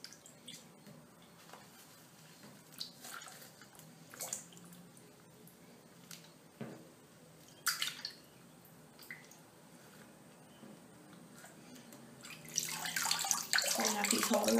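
Plain water in a bath sloshing and dripping, with scattered small splashes and drips that build into a louder, continuous rush of splashing at the end; voices talk quietly at times.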